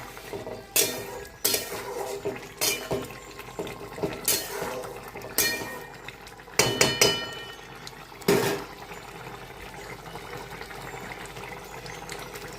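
Utensil scraping and clinking against a pan while paneer and cauliflower curry with ghee and garam masala is stirred, with several sharp metallic clanks spread through the first eight seconds and quieter rustling after.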